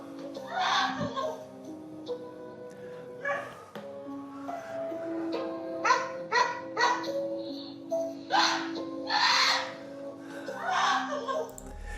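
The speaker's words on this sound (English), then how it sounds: "Okay, the dog goes." A dog barks and whimpers in a series of yips and whines, with short bursts spread across the stretch over a quiet background, and a little laughter or voice mixed in.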